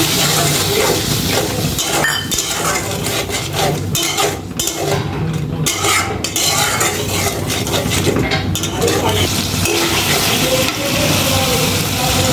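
Water is poured into a pan of frying ground spice paste with salt and turmeric, giving a loud, dense, continuous hiss and sizzle with a few clinks of the pan throughout.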